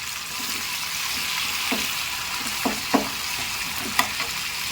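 Tomatoes sizzle steadily in a hot pan for anda tawa masala, a soft hiss broken by a few light clinks of a spoon stirring.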